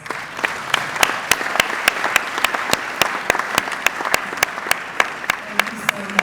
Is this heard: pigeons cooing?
no